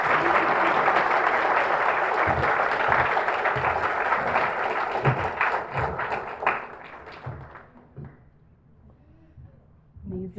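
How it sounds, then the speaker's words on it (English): An audience at a university graduate student reception gives a round of applause that starts loud and dense, thins to scattered claps and thumps, then fades out. "one more round of applause for Shauna"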